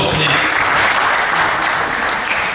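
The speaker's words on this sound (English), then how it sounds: "another applause, please." A university convocation campaign audience applauds a candidate, dense clapping filling the hall steadily throughout and only easing slightly toward the end.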